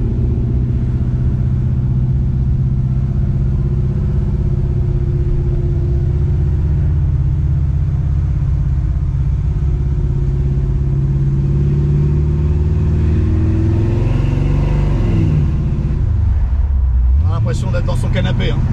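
A 1968 Chevrolet Impala four-door with a 5.7-litre V8 cruises down the road, its low steady engine rumble swelling as it accelerates and dropping off near the end, with a voice talking over the drive.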